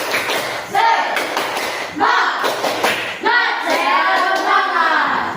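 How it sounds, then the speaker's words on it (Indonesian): A school class does a rhythmic spirit clap in a classroom, loud patterned bursts of hand claps separated by short pauses, with children's voices shouting along between the claps. "Sebelum kita mengerjakan KPD, tepuk semangat dulu."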